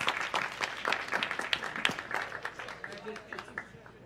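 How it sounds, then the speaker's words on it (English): A room of attendees at a Brooklyn community board meeting breaks into applause, a dense patter of many hands clapping that gradually thins out over a few seconds. "Please give them a warm round of applause."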